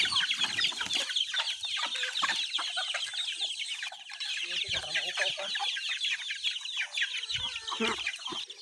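A flock of chickens clucking continuously and densely throughout, close and busy, in the countryside, with a hint of voices in the background.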